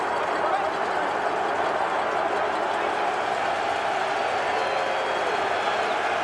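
A partisan stadium crowd at the Grey Cup football game roars steadily, a dense wash of distant cheering and noise that stays level throughout.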